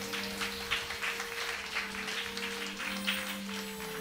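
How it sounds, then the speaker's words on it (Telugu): A church audience applauds loudly during a Telugu sermon, a dense steady clatter of many hands that holds evenly for a few seconds, with a sustained tonal hum running beneath it. "గట్టిగా చప్పట్లు కొట్టండి."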